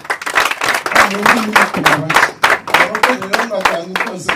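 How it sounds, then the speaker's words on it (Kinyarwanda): A church congregation claps for students in a dense, steady round of applause that fills the room, with voices mixed in through the clapping. "Dukomere hano abanyeshuri amashyi."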